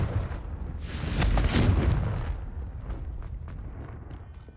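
The Confringo fire spell bursting in Hogwarts Legacy, a deep rumbling explosion swelling to a peak then fading into a crackling tail with scattered small pops.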